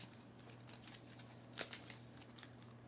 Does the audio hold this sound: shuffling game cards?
yes